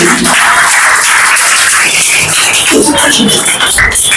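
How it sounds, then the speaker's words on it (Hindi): Loud applause and clapping from an audience at an Independence Day school event honouring a student, close and continuous, with some shuffling and a voice rising briefly near the end. "एक बार जोरदार तालियां इनके लिए"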